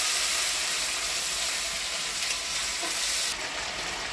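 A paste of ground ginger and cumin mixed with turmeric fries in a pan for a jackfruit curry, giving a loud, steady, close sizzle that softens slightly toward the end.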